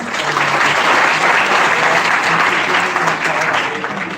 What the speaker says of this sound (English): please have a huge round of applause for everyone